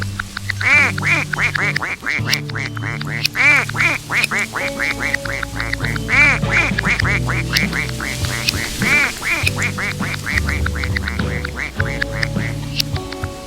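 Rapid, continuous quacking from ducks, close and loud, rhythmic bursts overlapping with a bouncy musical backing.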